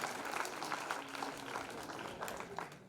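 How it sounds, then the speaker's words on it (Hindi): Loud, steady applause from a crowd at a Dhakad community talent felicitation ceremony, dense clapping sustained throughout without a break. "तालियां बजा दो जोरदार।"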